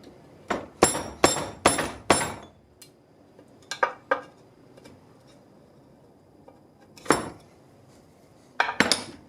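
Metal-on-metal prying and hammering while removing an old jack shaft seal on a Harley-Davidson motorcycle: sharp clanks and taps in quick bursts, then a pause, then a few more clanging strikes near the mic.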